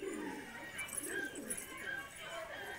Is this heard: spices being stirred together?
no